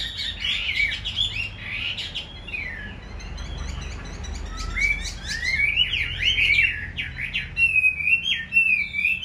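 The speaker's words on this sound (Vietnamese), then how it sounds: "hót vẫn xòe coi nhá" A caged songbird sings while spreading its tail, loud bright chirps and whistled phrases close by, rapid trills and sweeping notes repeating in bursts over a low background hum, with no voices.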